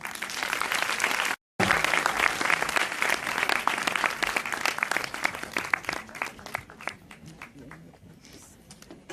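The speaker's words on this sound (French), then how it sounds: "Merci de les applaudir" An audience applauds the models at the Mr Guadeloupe 2013 pageant: sustained, dense clapping from a crowd that runs loud and steady after a brief cut, then thins out slightly toward the end.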